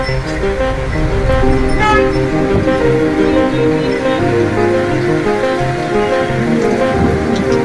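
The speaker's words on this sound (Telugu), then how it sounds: "సాయంత్రం 4 గంటల 15 నిమిషాల తర్వాత మోస్తారుపాటు వర్షం జోరందుకున్న దృశ్యాలు కల్లూరు 4 రోడ్ల కోర్టులో ఇప్పుడు మనం చూస్తున్నాం" Moderate rain picking up over the four-road junction at Kalluru in Pulicherla mandal: a dense, steady hiss of rain on the road surface with car noise and a few horn toots mixed in.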